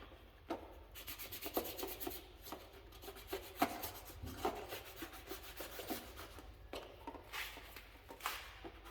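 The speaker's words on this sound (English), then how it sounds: "I have a wire brush around here that's got a wooden handle on it, and that works really, really good" A wooden-handled wire brush scrubs rust on a 1976 Bronco frame in quick, uneven rasping strokes, a close scratchy scraping that keeps going at a low level with no speech over it.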